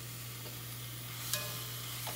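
Spicy Italian sausage, removed from its casing, fries in a Dutch oven with a steady, close sizzle and a couple of faint scrapes from stirring.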